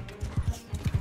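Galloping horse in Bannerlord, quick paired hoofbeats thudding in a rolling rhythm, close and clear, about four strikes heard within a second.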